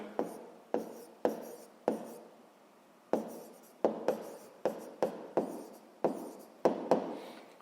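Hand-written strokes on paper while solving a sixth-grade math exercise: a steady series of short scratchy pen bursts, close and clear, in an irregular rhythm with brief pauses between words, with no talking.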